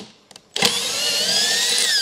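A power drill starts up after a few faint clicks and runs steadily at high speed, driving a bolt through the hitch mounting threads under the bed of a 2022 truck, close and loud, with no talking.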